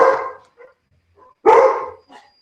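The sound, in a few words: dog barking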